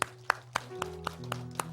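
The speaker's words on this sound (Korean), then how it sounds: "우리 위로의 박수하겠습니다." A few slow, evenly spaced claps from a Korean church congregation at a Sunday service, sparse and quiet over a faint hum.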